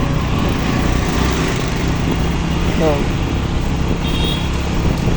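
A Hero 125 motorbike engine drones steadily while being ridden, a continuous close buzz mixed with rushing wind and road noise, with faint speech under it.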